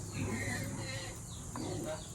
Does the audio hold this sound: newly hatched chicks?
yes